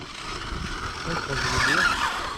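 An Arrma Kraton 4S V2 RC car fitted with old rear tyres skids and squeals on a cold, windy outdoor surface, a rising high-pitched tyre screech over the whining motor, close and moderately loud, with voices talking underneath.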